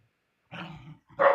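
A dog gives a short growling bark and then a sharper bark a moment later, close and fairly loud, with no talking.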